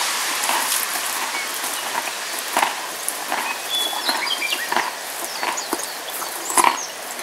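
Outdoor rain patters steadily around a horse standing out alone, with scattered sharper drips and taps landing close by over a continuous wash and no talking.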